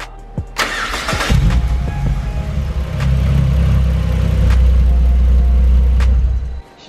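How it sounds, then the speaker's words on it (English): A car with a newly fitted turbo-side intake cranks briefly, catches and fires, then settles into a loud, close, steady idle with a deep rumble that runs until it is cut off near the end. "hopefully if we turn the battery or turn the key, the car should technically start."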